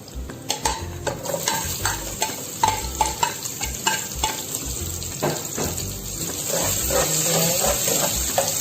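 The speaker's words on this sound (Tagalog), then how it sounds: "isunod na po natin ng onion and chili" Onion and chili sautéing in a hot pan for misua soup with shrimp: a steady sizzle and frying hiss with repeated stirring scrapes and clinks of a utensil against the pan, close and continuous, with no voices.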